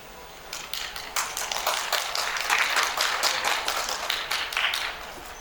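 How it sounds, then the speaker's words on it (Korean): Applause from a forum audience at an education technology event, a steady patter of many hands clapping at moderate distance, swelling briefly then holding for several seconds with no voices over it. "박수 한번 부탁드리겠습니다"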